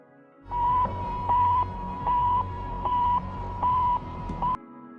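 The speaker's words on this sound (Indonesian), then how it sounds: "Sputnik memancarkan gelombang yang bunyinya seperti ini." A steady series of electronic beeps from the Sputnik satellite's radio signal, a single tone pulsing on and off at a regular rhythm over a hissy radio-like background.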